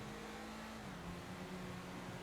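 An Ubermacht Rhinehart sedan accelerating in GTA 5 Online, a steady, fairly quiet engine drone that rises gradually in pitch as it speeds up, continuous throughout with no voices.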